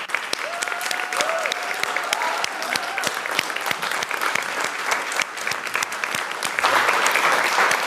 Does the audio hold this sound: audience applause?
yes